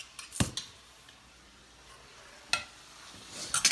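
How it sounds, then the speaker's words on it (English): Browning meat for a tater-tot hotdish stirred in a pan, with a few sharp scrapes and clanks of the utensil against the pan over a faint, quiet sizzle. "So then once that just gets done browning, just keep stirring it"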